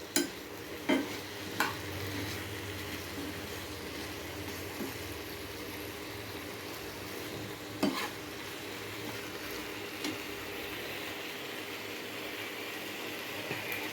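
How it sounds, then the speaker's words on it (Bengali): A breakfast mixture frying in a pan under a steady, fairly quiet sizzle, with occasional sharp knocks and scrapes from a utensil stirring it. "এবারে নাড়াচাড়া করে ভালো করে ভেজে নেব"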